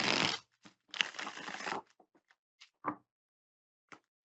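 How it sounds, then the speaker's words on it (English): Tarot cards riffle and shuffle in a few quick bursts, followed by scattered soft taps and slides as the deck is handled, with no talking. "Ah, that was a beautiful shuffle."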